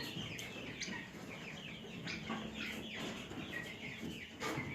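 Chickens in a newly built coop housing turkeys and broilers, faint scattered clucks and chirps from several birds at a distance, with no talking.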